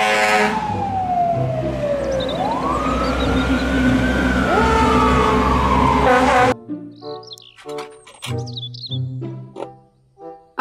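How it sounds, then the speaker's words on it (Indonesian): A toy fire truck sounds a loud, wailing electronic siren that rises and falls for several seconds, then changes to a short, bouncy musical jingle. "Mobil, truk, pemadam kebakaran."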